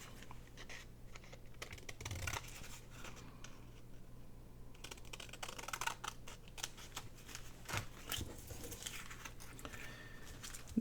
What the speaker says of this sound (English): we'll go ahead and cut that off.